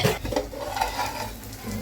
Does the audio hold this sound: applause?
no